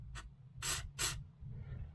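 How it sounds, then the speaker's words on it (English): Short hissing aerosol bursts of rust protection spray onto a Volvo 240 frame: one brief spurt, then two longer ones, close and fairly quiet, with a faint low hum underneath. "spray a bit over here"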